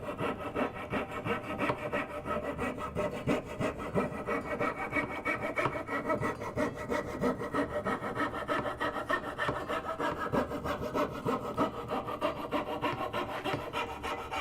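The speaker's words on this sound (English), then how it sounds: "So I'm going to go ahead and go through all of that using my jeweler's saw" A jeweler's saw rasps steadily through wood to cut dovetail pins for a splayed stool, a fine rhythmic back-and-forth scratching heard close and alone.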